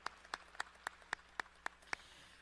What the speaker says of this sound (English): Let's give Shelley one more round of applause for her service to WSU.